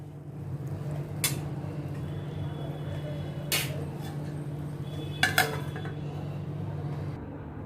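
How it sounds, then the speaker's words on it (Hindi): Serving a freshly cooked home-style mixed vegetable sabzi brings a few sharp metallic clinks of a utensil on a pot, spaced apart at moderate volume over a steady low kitchen hum. "और इसको डिश आउट करती हूँ"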